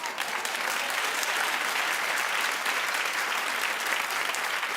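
A studio audience claps in a dense, even burst of applause that stays loud and steady from start to finish, with no voices rising above it.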